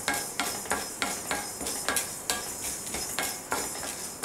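Peppercorns dry-roasting in a pan while being stirred, a quick run of sharp metallic scrapes and rattles in a steady rhythm, close and clear with no talking.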